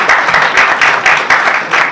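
A live audience at a ghazal and poetry recital bursts into loud, close applause, many hands clapping in rapid, slightly pulsing bursts throughout.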